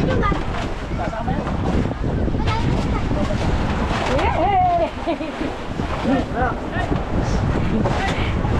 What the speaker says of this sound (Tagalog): nakasakay na tayo sa malaking bangka